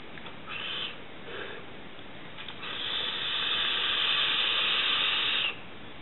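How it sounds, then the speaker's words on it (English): A vape dripper coil sizzles: a steady hiss builds and holds for a few seconds after some short soft puffs, close and fairly loud, then cuts off abruptly. "Give it a sizzle, nice and smoky."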